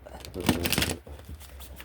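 Cards riffled and shuffled up close, a quick ruffling burst with soft flicking, while a person talks over it.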